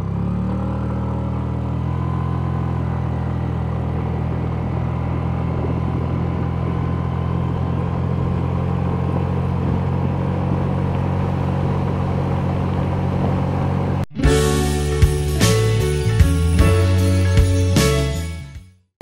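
Hero Destini 125 scooter with two riders accelerating from 0 to 60, a steady droning engine note building for about fourteen seconds before an abrupt cut to a different tonal, music-like segment.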